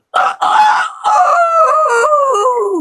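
A man imitates a rooster's cock-a-doodle-doo, a loud, close, drawn-out crow with a rising start and wavering, falling tail, voiced alone.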